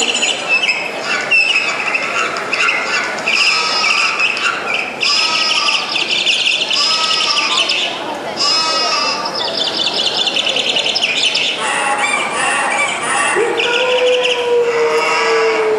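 Birds chirp and tweet busily through a school annual day stage performance, a dense, steady layer of bright calls running the whole time with a few squawks.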